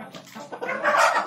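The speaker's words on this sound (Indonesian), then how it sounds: "Nah, ini ayam bondol." Bondol chicken clucking in a coop shared with other hens, a few short close calls that build into a louder, busier burst toward the end.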